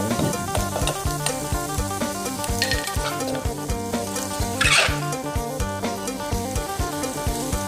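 Pork belly for a Thai winter melon curry fries in a pan with a steady, loud sizzle, punctuated by rhythmic scraping strokes as it is stirred, with no voices.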